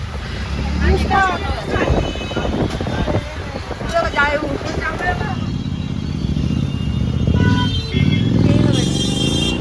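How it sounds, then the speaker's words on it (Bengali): A motorbike cuts between two vehicles in busy road traffic, its engine buzzing and rising through wind noise and the rumble of other vehicles, while people talk loudly over it. "দেখলে দেখলে বাইকটা কেমন করে ক্রস করলো দুটা গাড়ির মাঝখান দিয়ে"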